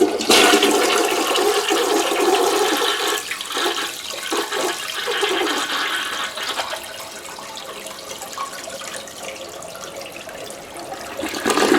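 A toilet flushes with a loud rushing surge of water at the start, settling into a steady draining hiss and trickle that slowly fades, with no voices.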